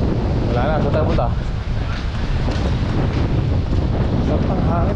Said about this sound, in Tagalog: Sarap ng hangin ah.